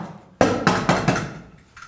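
Hammer tacker driving staples through insulation fabric into a wall stud, four sharp close strikes in quick succession, with a fainter one after.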